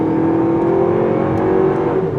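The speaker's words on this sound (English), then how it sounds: "This one, unfortunately, it does sound like a little 4-cylinder." The small four-cylinder engine of a 2026 Lexus TX 350 hums and revs steadily at a constant level, with a buzzy, droning tone throughout.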